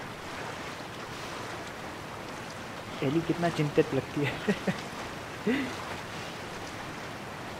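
Water lapping and flowing in The Last of Us as Ellie floats on a raft, a steady wash of waves close by, with a voice speaking over it partway through.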